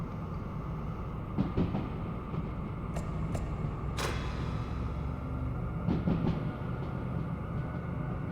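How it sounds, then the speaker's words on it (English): Freight train in Derail Valley rolling with dynamic braking engaged, a steady low rumble and drone with occasional clanks and brief higher squeals, continuous and close. "Run the dynamic a little bit just to kind of give our train brakes a little cool down"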